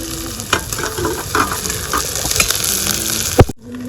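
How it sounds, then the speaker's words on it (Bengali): Large chopped onions dropped into hot oil, a loud crackling sizzle with spatula scrapes and stirring knocks, close up, ending with a sharp clatter before the sound cuts off. "পেঁয়াজটা দিয়ে দেবো তেলের মধ্যে"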